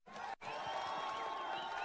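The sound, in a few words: crowd applauding and cheering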